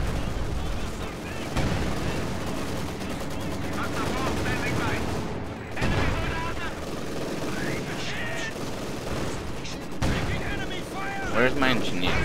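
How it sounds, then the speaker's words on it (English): Artillery barrage in Company of Heroes 2, a sustained rumble of explosions and gunfire running throughout, mixed with game effects and occasional voice-like sounds. "I want to do sector artillery."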